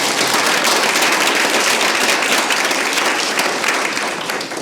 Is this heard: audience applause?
yes